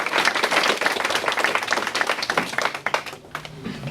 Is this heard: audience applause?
yes